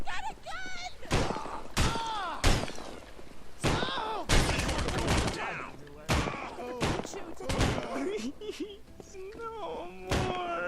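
Loud gunshots ring out one after another at irregular intervals in Postal Redux, each a hard, booming crack, with speaking voices in between the shots.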